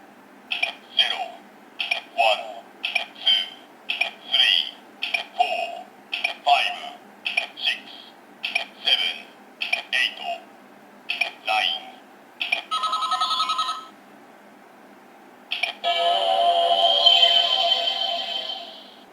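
Number buttons on a Kamen Rider Decade DX K-Touch toy are pressed one after another, each giving a short electronic phone-style beep in a quick series, followed by longer electronic tones, with someone talking underneath.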